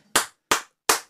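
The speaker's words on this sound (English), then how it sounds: "That was the most patronizing clap I've ever heard" Three crisp hand claps in an even, slow rhythm, sharp and close, each fading quickly into silence.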